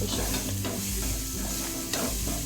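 Masala with chili powder stirred and fried in a pan for kaju curry, a steady close sizzle broken by repeated scraping strokes of the spoon, with no talking.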